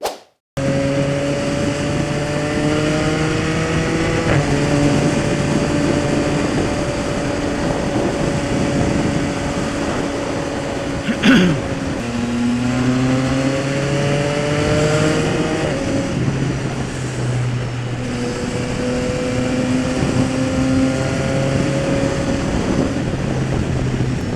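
A motorcycle runs at steady speed on new Michelin Road 6 or Pirelli Rosso 4 tires. The engine drone stays close and continuous, with rising pitch through the gears and a few shift breaks, alone without talk.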